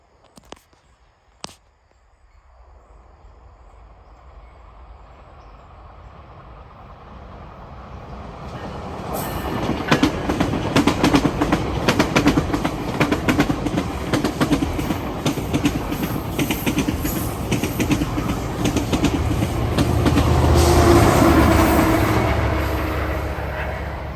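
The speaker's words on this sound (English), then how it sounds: "to see a northbound train going from Toronto to Aurora" A northbound GO commuter passenger train from Toronto rolls past close by, building from a distant rumble to a loud, sustained roar with rhythmic clacking wheels.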